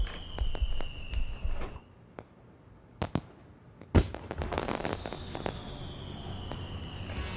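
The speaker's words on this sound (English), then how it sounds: "It's fireworks." Fireworks go off outdoors at night in sharp, loud bangs and crackling bursts, some single pops and a big boom near the middle, over a steady insect-like hiss.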